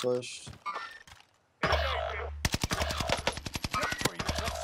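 Gunfire from the shooter game Warzone, an opening burst of clicks and shots, a short lull, then a loud rapid machine-gun volley of evenly spaced cracks over a low rumble.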